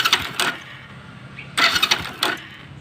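A motorcycle engine is started with a newly fitted self-start motor at the push of the button: two short cranking bursts of the starter and engine, close and fairly loud, each lasting under a second.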